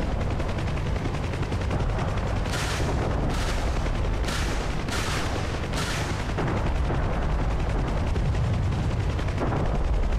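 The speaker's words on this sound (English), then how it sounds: "Convoy looks like he's returning fire." Bursts of gunfire from a vehicle convoy returning fire during a DCS helicopter battle, several short volleys cutting through a constant heavy engine and rotor drone, no one talking.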